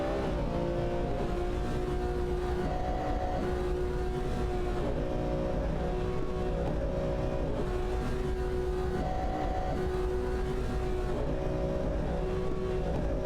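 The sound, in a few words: race cars driving in a video game race, McLaren, Aston Martin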